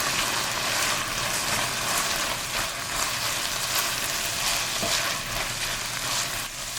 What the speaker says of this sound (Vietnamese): Tiếp theo thì mình cho thịt xay vào đảo đều